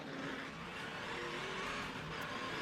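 A NASCAR Busch Series race car spinning out off turn 4 at Bristol during the Food City 250, a dense, loud roar of engines with tire noise filling the track.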